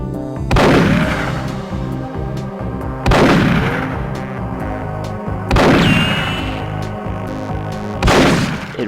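Magnum pistol in Perfect Dark's firing range: four loud, slow, evenly spaced shots, each a heavy boom with a long ringing decay, alone with no talk.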